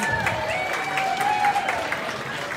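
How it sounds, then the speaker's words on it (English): An audience at a live art battle event in Wichita Falls claps in sustained applause, dense and even, with some voices and cheering mixed in the crowd. "Give David a round of applause."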